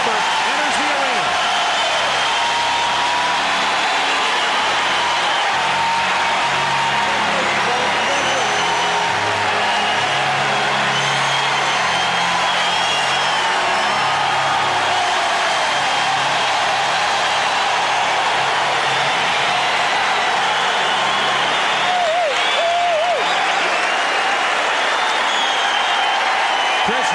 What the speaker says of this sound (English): The crowd will get loud again now as Webber enters the arena.